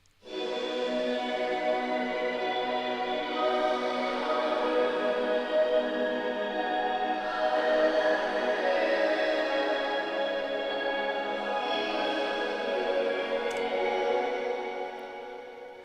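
Folk pop track drenched in a lush delay and reverb chain with added drive, Echo Boy, FlexVerb and EQ, a sustained wash of chords and echoes playing alone and steady before fading at the end.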